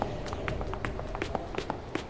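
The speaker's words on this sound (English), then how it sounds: "I hear footsteps. I hear those a lot in this game." Footsteps in the horror video game Nanashi no Game sound as a quick, regular series of soft taps, steady and moderately close over a dim background.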